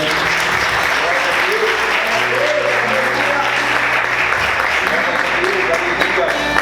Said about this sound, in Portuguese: Você pode aplaudir Jesus com alegria